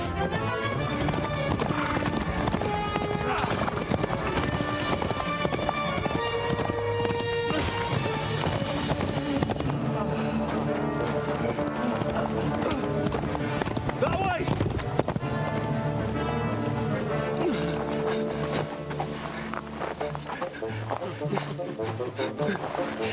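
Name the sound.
horse galloping, hooves clip-clopping, in video game Kingdom Come Deliverance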